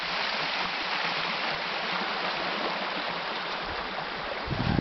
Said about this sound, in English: A little brook emptying out of the woods,